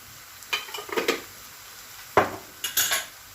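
Pepper paste and tomato paste being stirred into minced meat in a pot, with a faint sizzle under several distinct scraping strokes of a utensil against the metal.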